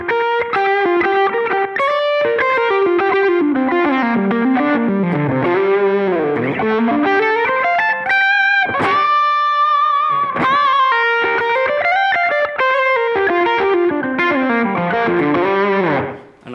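Electric guitar through a Line 6 Helix Litigator full amp model, with moderate drive, sag turned up and presence off, playing a lengthy melodic lead line of sustained, bending notes with a warm, lightly overdriven tone, loud and alone.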